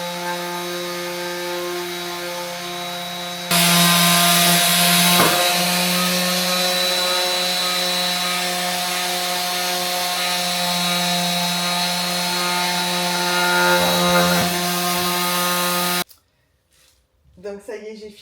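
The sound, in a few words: sanding a wooden furniture leg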